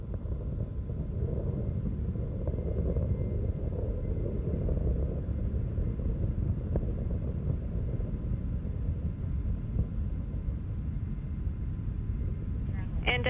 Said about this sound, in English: Endeavour's 3 liquid-fueled engines are now back at full throttle